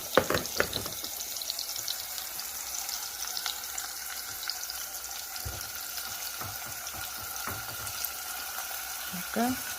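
Anchovies frying in preheated oil, a steady close hiss with scattered pops and crackles running throughout, a few sharper spits near the start and end.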